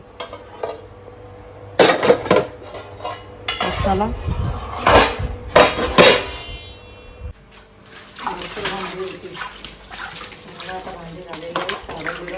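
Dishes, pots and pans being scrubbed and rinsed at a home kitchen sink, with clattering utensils and running water through most of the stretch, and someone speaking briefly over the work.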